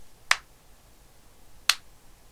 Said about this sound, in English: So here's a clap test.